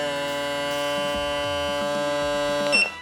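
A VGR electric shaver runs with its plastic head and foils removed, a loud steady buzzing drone held for about three seconds before it cuts off abruptly.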